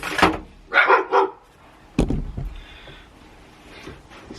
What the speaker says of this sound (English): They started barking so much.